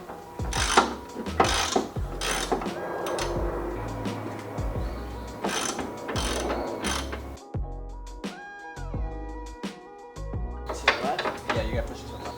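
Ratchet clicks while 12 mm bolts are undone on the hood of an Infiniti G35 Coupe, in sharp repeated bursts with gaps, mixed with other mechanical clatter and people talking.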